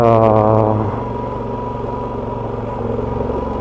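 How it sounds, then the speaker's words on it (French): A motorbike engine drops from a high rev to a lower, uneven drone with a faint pulsing stutter from the traction control cutting in, close up and steady. "Là on entend l'anti-patinage qui doit un petit peu faire son effet"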